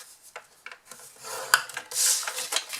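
Scoring tool drawn along card stock while making a box card, a few short scratchy rasping strokes, close and fairly faint, with small taps between them and no voices.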